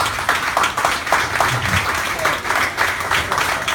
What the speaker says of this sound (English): I'd like to ask all the past presidents to stand now so we can give you a round of applause